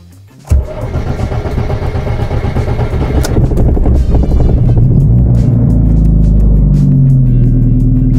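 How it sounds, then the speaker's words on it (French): A car with an E85 fuel conversion and a new fuel pressure regulator is cold started: a short cranking burst catches, the engine fires and settles into a loud, steady idle that continues without talk. "on va essayer maintenant le démarrage avec le nouveau régulateur de pression"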